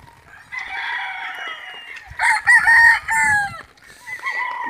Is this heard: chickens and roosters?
yes